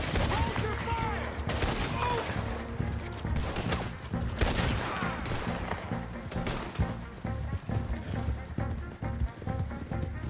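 Repeated gunfire crackles in a Western shootout in Red Dead Redemption 2, with bursts of shots and galloping horses under shouting voices, loud and continuous throughout.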